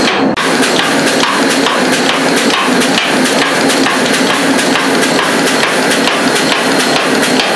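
An air power hammer pounds steadily at full stroke, forging out the cheeks of a rounding hammer, with fast, even, loud metallic blows continuing without pause.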